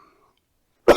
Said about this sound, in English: Excuse me, coughing attack.